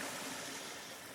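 Creek water flows steadily at a gold-prospecting site in an unexplored area, a continuous broadband rush with no voices or distinct events, fairly quiet and even throughout.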